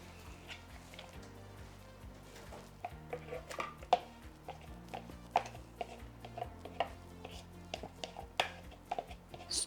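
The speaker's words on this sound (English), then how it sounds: "Let's whisk this together." A whisk beats salted batter for Swedish potato pancakes (raggmunk) in a bowl, giving quick, irregular clicks and taps that grow busier toward the end over a quiet low hum.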